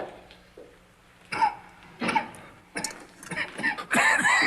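An elderly general lying in a sickbed gives several harsh, separate coughs a second or so apart, growing louder and more strained toward the end, with no talking.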